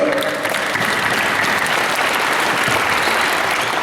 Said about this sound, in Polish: Wielkie brawa na Chrisa